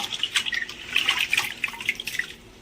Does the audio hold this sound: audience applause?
no